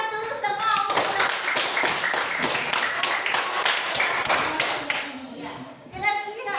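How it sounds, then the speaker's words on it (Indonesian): A classroom of students clapping together for a classmate, a dense burst of close, rapid claps lasting about five seconds before fading, with voices mixed in around the applause. "Oke, beri aplaus dulu semua untuk"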